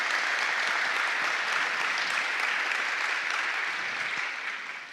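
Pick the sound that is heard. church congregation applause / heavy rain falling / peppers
church congregation applause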